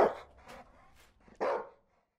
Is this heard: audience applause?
no